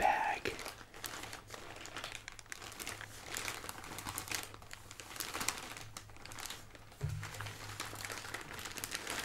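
The plastic wrapper of a Feastables chocolate bar crinkles close up in quiet, soft bursts of rustling throughout, with a faint low hum underneath.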